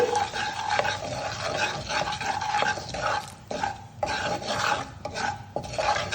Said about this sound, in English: Just stir it a little so that the masala is cooked well.